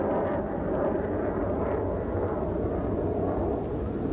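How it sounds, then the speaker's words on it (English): Several helicopters flying overhead a few blocks from the World Trade Center site in New York, a loud, continuous low rotor roar filling the air without letup. "A number of helicopters overhead right now."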